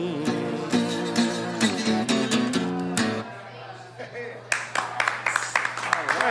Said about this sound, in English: Look, the people in the restaurant are all clapping